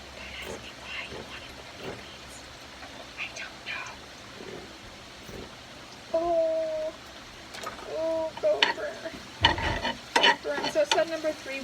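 Pork and beans are stirred in a sizzling pan during home cooking, with a steady frying hiss and repeated close scraping strokes that grow louder and busier toward the end. Faint voices are heard.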